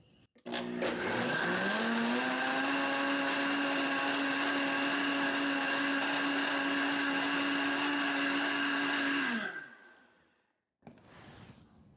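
A blender spins up and runs loudly and steadily for about nine seconds while cleaning itself with water and a few drops of dishwashing liquid, then winds down, and a brief softer noise follows.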